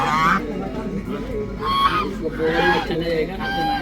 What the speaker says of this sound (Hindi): तो यहाँ पे देखिए काफ़ी सारे बतख आ गए हैं